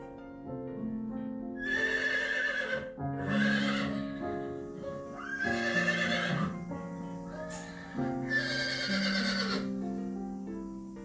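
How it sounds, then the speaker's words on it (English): A horse neighs and whinnies in four loud, quavering bursts separated by short pauses, close and clear with no one talking. "Horse."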